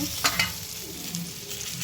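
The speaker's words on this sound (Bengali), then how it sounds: "কিছুটা বেগুন আমি ভাজছি" Eggplant slices fry in hot oil, a close, steady sizzle with a couple of sharp pops early on and faint stirring scrapes.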